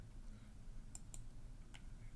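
Computer mouse clicks on a Lubuntu Linux desktop: three short, sharp clicks spaced apart over a steady low hum, with no talking.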